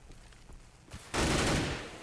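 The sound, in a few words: gunfire in Counter-Strike video game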